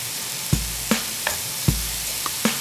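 Sliced bananas sauté in a pan for a chocolate-banana dessert, with a steady soft sizzle broken by about six sharp clicks and scrapes of a utensil stirring them, close and with no talking.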